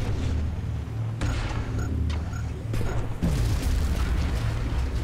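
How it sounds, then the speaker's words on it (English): Grenade explosion in the video game XCOM: Long War, a loud, dense blast at about 1.2 seconds followed by further booming impacts and a deep rumble at around 3.3 seconds, set over continuous game background noise. "Can we maybe lob a grenade down there?"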